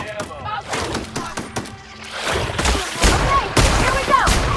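Rapid gunfire in The Outer Worlds video game, dense bursts of automatic shots and booming impacts crackling loud and close in a sustained firefight, with no talk over it.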